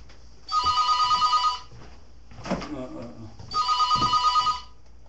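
An electronic telephone rings in two clear bursts, with a short pause between them, indoors at a real estate brokerage office.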